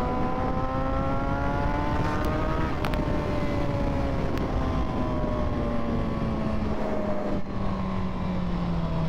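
A new motorcycle engine running at speed, a steady loud droning hum with a slowly falling pitch and rushing wind noise, sustained throughout with no talk.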